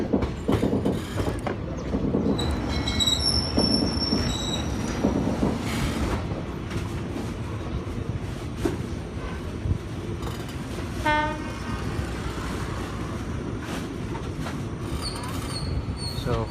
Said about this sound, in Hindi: अभी स्टेशन में जा रही है ट्रेन